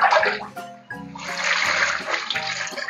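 Water heating in a cooking pot, close to boiling, gives a close, bubbling, splashing wash with broad hiss and a few brief clunks.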